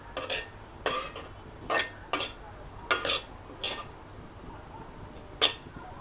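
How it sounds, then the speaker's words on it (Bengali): A spoon scrapes and stirs ghee frying in a cooking pot while making papaya zarda, with sharp, evenly spaced strokes over a faint, low sizzle. "একটু ঘিটা দিলাম, দিয়ে এখানে একটু ভেজে নিতে হবে।"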